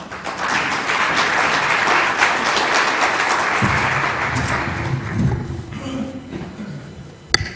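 An audience at a UC Berkeley keynote event claps steadily to welcome Provost Breslauer, a dense, even wash of applause that thins out toward the end, with a few low rumbles of movement near the podium.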